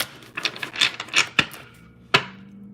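Tarot cards are shuffled and pulled, heard as a quick run of close, crisp slaps and taps, then two sharper snaps as single cards are drawn, with no talking.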